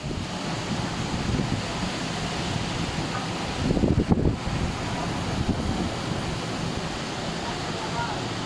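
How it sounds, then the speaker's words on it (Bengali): Rain falls outdoors in Dhaka near a rest house during windy, rainy weather, a steady dense hiss and wash that continues throughout, with a brief louder swell midway. "এই যে দেখতেই পাচ্ছেন বৃষ্টি এখনও হচ্ছেই"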